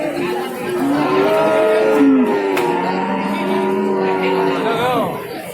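Several Madura cattle moo loudly and at length at the Babat cattle market in Lamongan, East Java, long low calls overlapping one another close by, with faint human chatter in the background.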